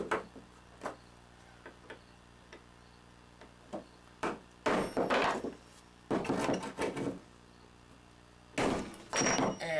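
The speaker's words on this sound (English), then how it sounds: "Pounding the rivet in all the rest of the way" A hammer pounds a rivet into an SKS rifle gas tube, giving sharp, close knocks, first spaced singly and then in dense bursts of rapid blows, over a quiet room hum.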